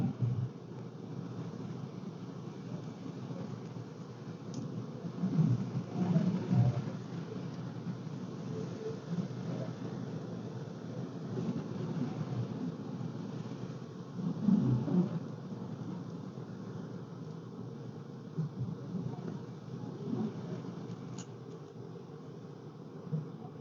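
Strong hurricane wind roars and buffets a car while driving during Hurricane Lee, a steady heavy rumble with louder gusts swelling now and then, and no voices.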